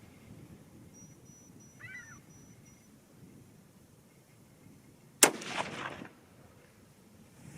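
A single loud .308 Winchester rifle shot firing a 125 gn Sierra TGK load during range testing, a sharp crack after quiet with a brief rolling echo that fades within a second.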